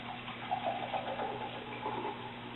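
Seltzer water poured from a bottle into a glass during a soda and candy experiment, a steady close fizzing wash of liquid with a low hum underneath, alone without talk.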